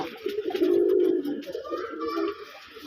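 A pair of red Raj Golla pigeons coo in low, throaty, rolling calls, steady and fairly close, with a faint rustle in the background.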